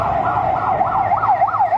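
A fire truck siren wails in a rising and falling cycle, loud and continuous over a low traffic rumble, responding to a fire at commercial shops in a city.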